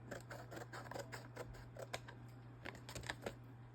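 Scissors snip excess paper from a printed support card for an elegant rose-trimmed greeting card, a run of quiet, close, irregular clicks and cuts over a steady low electrical hum.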